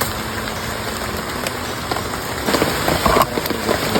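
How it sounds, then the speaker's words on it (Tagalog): Heavy rain pours steadily, a dense hiss with scattered drop impacts close by, and faint engine idling mixed in beneath it. "bigla namang lumakas ang ulan"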